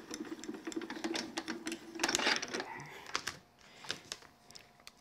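A manual die-cutting machine cranks a sandwich of plates through, giving a dense run of clicking, rattling mechanical ticks that surge briefly in the middle and then thin to sparse clicks.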